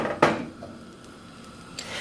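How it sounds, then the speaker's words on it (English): A pan lifted off the stove and swirled to spread thin vegan omelette batter, making a sharp metallic clank at the start and then faint scraping and rattling close by, with no talk. "you have to pick up the pan and like move it around like this"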